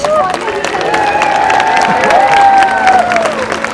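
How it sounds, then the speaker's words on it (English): Crowd at a SeaWorld San Diego orca show applauding and cheering, a loud, continuous mix of clapping and excited voices under sweeping tonal whistles from the sound system. "Everyone give a big round of applause to 30-year-old Keet!"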